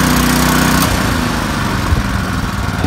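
Close by, the small gasoline engine of a Canawe Magic Weld 150 portable welder-generator runs loud and steady, its pitch shifting slightly as the choke is adjusted, with no voices over it.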